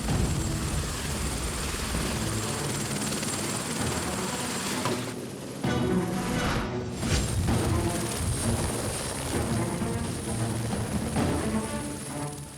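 A firefighting helicopter drones steadily throughout, a dense rotor and engine roar that stays loud and continuous, with a brief dip midway.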